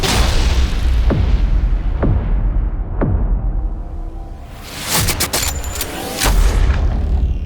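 Frag grenade explosions in the shooter game Frostpoint: three sharp, deep booms about a second apart over constant loud battle noise, followed by more bursts and blasts.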